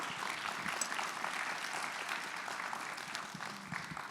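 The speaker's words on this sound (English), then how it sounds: "let's give our panelists a round of applause" An audience at a business session applauds its panelists, a soft, distant-sounding wash of clapping that runs steadily for about four seconds at low volume.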